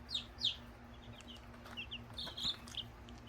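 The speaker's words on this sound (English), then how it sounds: "So that's the adult chickens." Soft, scattered chirpy clucks from a few chickens, quiet and somewhat distant, with a steady low hum underneath.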